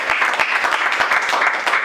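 A church congregation at an Easter service breaks into cheering and rapid applause for God, a dense burst of many hands clapping at once.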